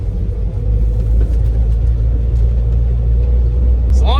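A car engine idling steadily nearby, a deep continuous rumble with a low hum and constant level throughout, and a brief voice at the end.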